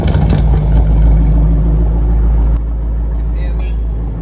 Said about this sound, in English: He about to give y'all a little warm start real quick.